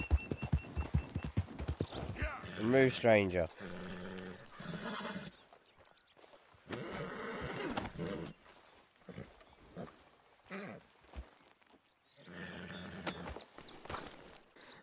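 Horse hooves clip-clop and a horse whinnies in the Red Dead Redemption 2 video game, with loud busy bursts early, then quieter stretches of hoofbeats and animal noise; a brief line of game dialogue is spoken.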